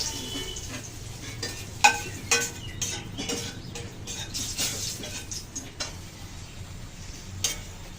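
Two dry chillies and a bay leaf sizzling in hot oil with a pinch of turmeric, a faint steady crackle with scattered clicks and taps of a utensil against the pan.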